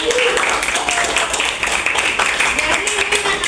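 A classroom of students claps for a few seconds, a brisk, dense patter of hands at close range mixed with a voice talking over it.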